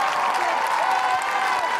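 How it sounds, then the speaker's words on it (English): A Manchester United women's football stadium crowd roars and applauds a substitute coming on, a broad, distant wash of cheering and clapping with a faint voice above it. "A great round of applause for Leah Galton as she comes on for her last home game as a Manchester United player"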